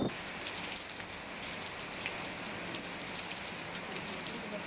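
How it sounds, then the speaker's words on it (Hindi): Steady rain falls with strong wind in Jharkhand, a dense even patter on surfaces heard faintly and continuously, with scattered sharper drop hits. "तेज हवा के साथ बारिश हुई"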